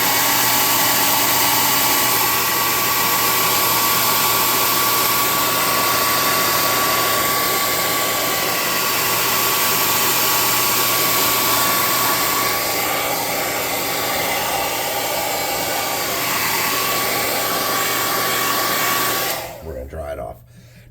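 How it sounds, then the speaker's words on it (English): A hot air gun blows steadily and loudly on a model locomotive, a continuous close whooshing roar with a faint motor whine that holds for about nineteen seconds before cutting off abruptly. "we're going to hot air gun this."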